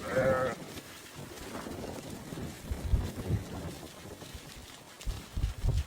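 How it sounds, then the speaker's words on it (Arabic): Several Naimi sheep bleat at a moderate distance, overlapping irregular calls against light wind noise. "غنم ولادة ومنتجة"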